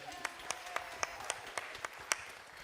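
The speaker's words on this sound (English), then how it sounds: "Can we give a round of applause for my producer, Rosita?" Sparse, evenly spaced claps from a small group, about ten sharp claps ringing out at a steady rhythm over a quiet room hum.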